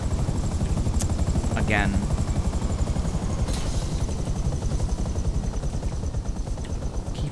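Helicopter rotor chopping steadily and loudly throughout in GTA Online, a continuous close drone with brief bursts of gunfire-like clatter and someone talking over it.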